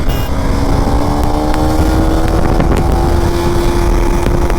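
A KTM Duke 390 Gen 3 motorcycle in rain mode accelerates hard through the gears, its engine a loud, steady close-up drone with rising pitch and constant wind rush throughout.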